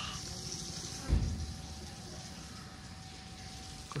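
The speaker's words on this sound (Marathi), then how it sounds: "हातपाय धुवून घेतो इथं" Water runs steadily from a tap at a temple well with a mesh fitted over it as hands and feet are washed, a low continuous flow with a brief louder gush near the start.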